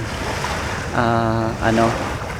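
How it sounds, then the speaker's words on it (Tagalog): Gentle sea waves wash at Al Mamzar Beach in Dubai, a soft, steady surf and wind rush throughout, with a voice briefly sounding over it midway. "Mahina din yung alon so far."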